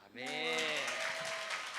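A church youth service congregation breaks into applause, a dense wash of clapping that starts with a voice calling out over it and continues as a steady roar.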